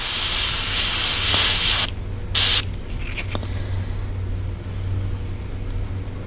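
Bursts of hissing spray from an aerosol paint can onto a fishing lure, a long steady spray followed by a short burst and faint clicks, close by.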